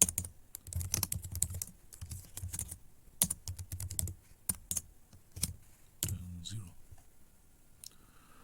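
Bursts of typing on a computer keyboard as a basic C++ program is entered, uneven clusters of crisp clicks with short pauses, close to the microphone, with a voice talking quietly in places.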